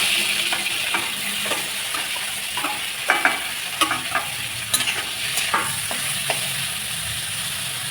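Spiny gourd (kakrol) frying in hot mustard oil, a constant sizzle with intermittent sharp stirring clinks and scrapes against the pan, close and moderately loud, no talking.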